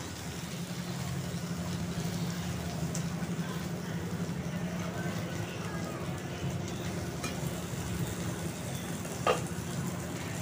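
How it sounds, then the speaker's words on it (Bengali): Rui fish paturi wrapped in banana leaf frying in oil in two kadais, a steady soft sizzle running throughout with light stirring and kitchen background noise. "দুটো কড়াইতে আমি ঝটপট করে পাতুরিগুলো ভেজে নিচ্ছি।"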